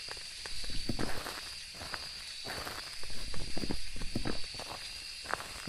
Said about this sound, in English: The problem is those footsteps sounded slightly fast.